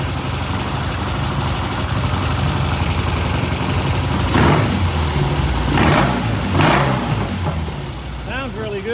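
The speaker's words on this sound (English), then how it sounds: "Right now it's idling, a little high, about 1100 RPM." Vintage British motorcycle engine idling slightly high at about 1100 RPM in a repair shop, a loud, steady, close-up throb that holds even throughout, with a few brief sharper knocks over it.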